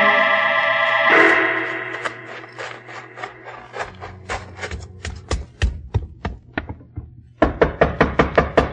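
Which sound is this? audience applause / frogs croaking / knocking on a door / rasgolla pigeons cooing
knocking on a door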